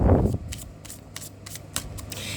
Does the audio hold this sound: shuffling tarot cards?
yes